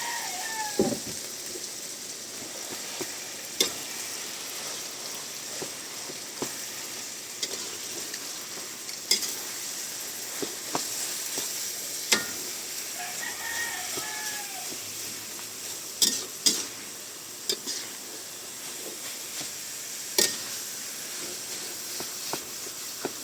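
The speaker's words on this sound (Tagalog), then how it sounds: "Igisa nyo pa tuloy-tuloy lang" Ground meat sautéing in a pan, a steady close sizzle and hiss with frequent scraping stirs of a utensil against the pan, no voices.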